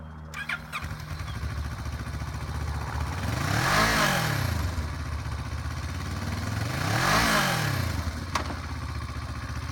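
Used 2009 Kawasaki Versys 650 twin sport motorcycle engine running close by, a steady idle rising into two smooth revs that swell and fall back, with no talking.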